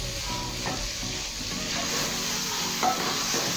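Sliced okra (bhindi) for a dhaba-style bhindi masala fries in a pan with a steady, close sizzle and occasional soft stirs, no voices.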